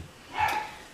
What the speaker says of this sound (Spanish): mis perros están allá afuera discutiendo el uno con el otro